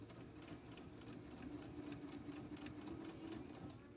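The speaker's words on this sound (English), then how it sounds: "But I'm just stitching right along, just like this." A sewing machine stitches along cording wrapped in bias tape to make piping, its needle running in a steady, even rapid whir close by, with no talking.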